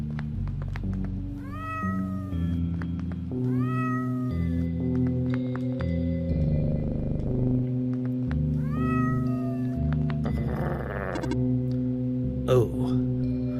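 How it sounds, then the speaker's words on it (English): A cat in the video game OneShot meows repeatedly, several rising and falling calls spread across the scene, clear and close over a steady layer of game music, with no talking. "Oh, a cat. Are you lost?"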